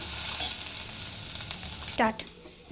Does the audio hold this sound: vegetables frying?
yes